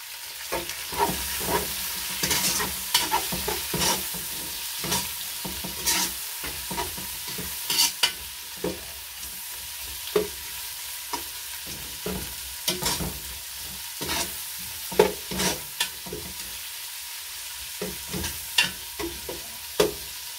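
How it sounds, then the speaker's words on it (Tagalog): Laing, three kilos of taro leaves, being stirred and fried in a large pan, with repeated scraping spoon strokes in an irregular rhythm over a constant soft sizzle, close and clear with no talking. "ang lulutuin pala natin 3 kilos na laing"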